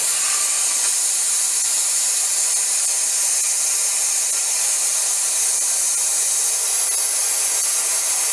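Shop vacuum drawing air through a coolant hose on a 1997 Honda Civic hatchback, a steady hissing suction roar that stays even and fairly loud throughout, with no speech.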